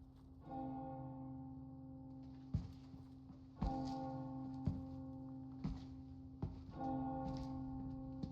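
A bell in the Resident Evil 4 Remake video game tolls loudly several times at a slow, even pace, each deep ringing strike sustaining and overlapping the next, with sparse game ambience and no talk.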